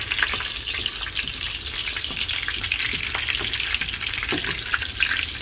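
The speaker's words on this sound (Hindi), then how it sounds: "तड़का लग जाएगा अभी" Steady crackling sizzle of tempering spices frying in hot oil for a tadka, a dense continuous hiss with small pops, close and fairly loud, no voices.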